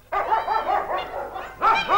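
Guard dogs kept by border guards bark repeatedly in quick, loud yelps close by, a short burst, a pause, then two more barks, with no voices.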